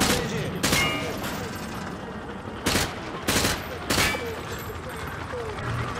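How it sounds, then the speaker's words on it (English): Gunfire in Call of Duty: Modern Warfare 2, with a weapon sprayed at range targets: several loud bursts of shots spread across the stretch over a steady background wash. "Grab that weapon off the table and fire at the targets behind you."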